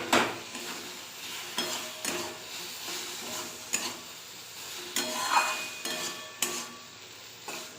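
Fried potatoes being stirred into a sautéed masala in a pan, a spoon scraping and knocking against the metal in repeated strokes over a soft sizzle, close and without talk.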